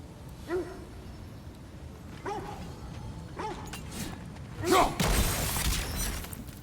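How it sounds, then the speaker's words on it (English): Dogs in the video game God of War Ragnarok bark in several short, fairly faint yelps spread across the moment, mixed with other in-game clatter and a louder crash near the end. "the barking is driving me insane"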